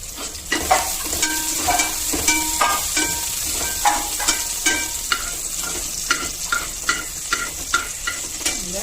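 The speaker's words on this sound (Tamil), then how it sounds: "இதுல இந்த பக்கம் பன்னீரை வந்து ஃப்ரை பண்ணி எடுத்துக்கலாம்" Paneer frying in a pan with spices, a steady close sizzle punctuated by regular scraping stir strokes roughly every half second.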